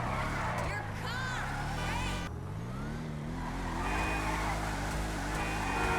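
A Bravado Gauntlet Classic Custom from Benny's races through intersections in GTA 5, its engine droning and rising in pitch under continuous talk, with brief tire squeal.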